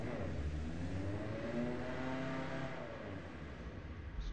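Racing car engine in the video game Apex Point held in a high gear, fourth, a steady droning rev with rising and falling harmonic tones, moderately loud and continuous, with no talking.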